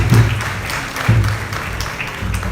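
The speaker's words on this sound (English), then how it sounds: "A round of applause for our director" An audience at a royal graduation ceremony claps in two bursts of applause. The clapping is fairly loud, with a sustained crowd hiss between the bursts.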